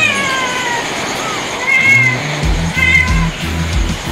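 Kittens meow over a busy background hiss, giving several short, high mewing calls close to the listener, clustered in the second half.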